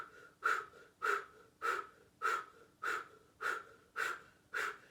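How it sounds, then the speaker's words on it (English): Rhythmic yoga breathing exercise: eight forceful, evenly spaced breaths, each a sharp snort-like exhale, close and clear in a quiet room. "And now start that breathing."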